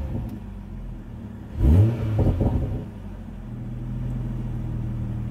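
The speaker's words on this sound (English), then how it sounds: "when you put it into Sport Plus, it automatically gives the higher pitch of the exhaust" A 2020 BMW M340i in Sport Plus mode blips its engine once, a short, rising exhaust rev that swells and falls back to a low idle rumble, heard close by.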